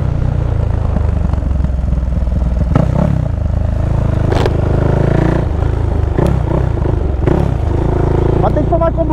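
A remapped 470cc motorcycle rides along with a steady engine rumble, broken by several sharp clatters and scrapes, while someone talks over it.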